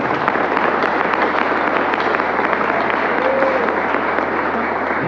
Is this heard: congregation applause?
yes